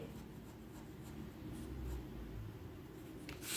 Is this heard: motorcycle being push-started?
no